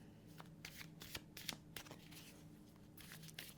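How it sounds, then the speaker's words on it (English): A deck of tarot cards being shuffled close by: a quiet series of quick crisp riffling bursts with short pauses between, and no voice. "3 shuffles"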